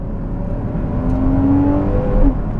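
Porsche Cayman S 981 engine and exhaust revving, a steady loud drone that rises in pitch through a sustained climb, peaking near the end without anyone speaking.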